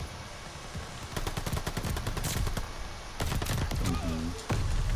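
Shotgun gunfire from a video game: a rapid series of loud sharp blasts, some in quick bursts, with scattered game effects between them and no talk.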